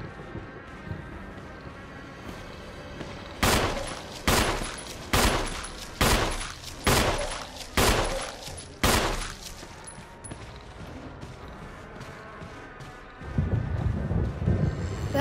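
Gunfire in the Resident Evil video game: a run of about eight loud, evenly spaced shots, each with a short decaying tail, followed by quieter game ambience.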